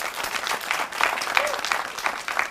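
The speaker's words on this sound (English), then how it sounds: "Please, let's clap for him." Audience applause for an insurance-industry guest at an indoor event, steady dense clapping lasting a couple of seconds with a brief dip midway, fairly close and moderately loud.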